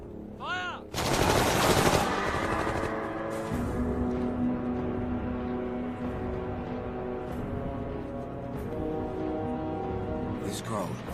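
Rapid bursts of gunfire from an action film, loud and sustained over several seconds after a brief shouted command, with clattering automatic fire and scattered sharper shots continuing underneath.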